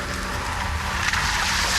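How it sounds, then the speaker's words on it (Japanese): A 2023 Nissan X-Trail driving off-road through a puddle, with a steady, loud rush of water spray and tire slosh that holds for the full stretch. "水たまりを通る音もよく聞こえます。"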